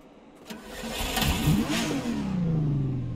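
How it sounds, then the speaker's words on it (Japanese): A Lamborghini Diablo GT engine in a realistic open-world video game cranks and catches, then revs up and settles into a steady rumbling idle, loud and close. "うわ、いいエンジン音。"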